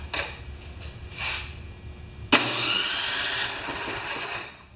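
A Snowking snow blower engine cranked by its AC electric starter gives a sudden loud whirring burst after a few quieter scraping sounds, then runs on steadily for about two seconds and fades.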